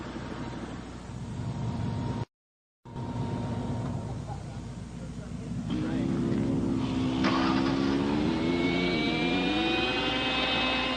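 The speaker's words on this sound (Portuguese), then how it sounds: "É a hora da última experiência com o helicóptero controlado por rádio sob essas condições." Radio-controlled helicopter flying in storm wind near a tornado, a steady engine and rotor drone under gusting wind that rises in pitch and strength partway through, with a brief dropout early on.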